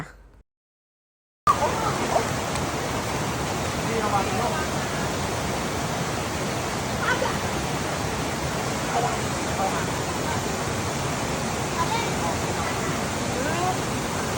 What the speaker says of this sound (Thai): อาสิให้ฟังเสียง น้ำตกเนาะจ้า